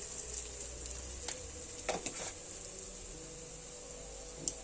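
Ingredients being stir-fried in a pan before boiled noodles go in, salted while cooking: a faint, steady sizzling hiss with a few soft clicks and scrapes from stirring.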